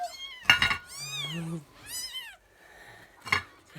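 Several high, thin kitten meows come close and loud in quick succession, with rising and falling pitch, separated by short pauses.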